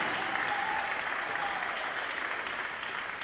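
Steady round of applause from a crowd in a high school gym honoring four senior girls volleyball players, dense continuous clapping held at an even level throughout.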